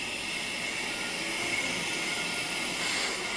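A rebuilt Electrolux central vacuum unit runs steadily, a continuous broad whooshing motor-and-airflow roar that stays even and fairly loud throughout with no pauses.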